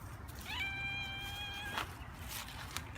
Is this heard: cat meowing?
yes